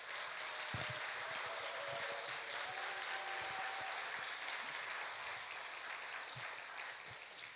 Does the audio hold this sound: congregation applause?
yes